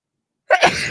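A single sharp sneeze bursts out close up after silence, with a quick breathy tail.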